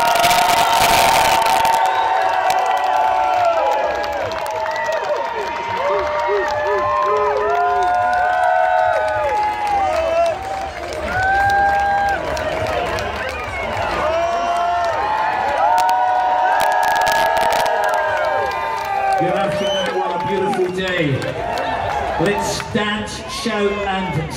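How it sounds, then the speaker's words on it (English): A festival crowd at the Rewind Scotland main stage, Scone Palace, Perth, claps and cheers loudly and continuously for the band, with whoops rising over the applause throughout. "Let's give a massive round of applause as we get the main stage underway"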